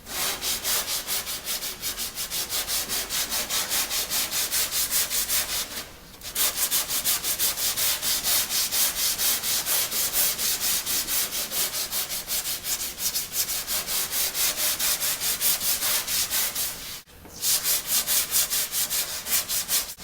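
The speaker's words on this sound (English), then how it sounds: "I'm going to finish sanding it." Back-and-forth strokes of a sanding block fitted with 80 grit sandpaper scrape over Bondo body filler, a fast steady rasping rhythm up close, pausing briefly twice.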